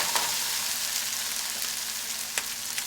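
Diced potatoes and Spam fry in a pan, a steady bright sizzle with a couple of soft clicks from stirring.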